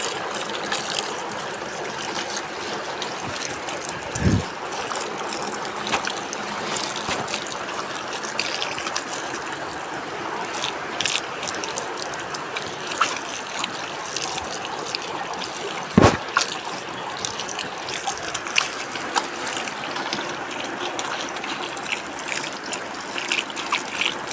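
Harvested rainwater trickles and gushes steadily from a collection system on a regenerative farm after a brief rain, a continuous moderate flow with a couple of sharp knocks.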